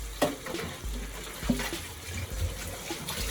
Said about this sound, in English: I'm going to put some water in here.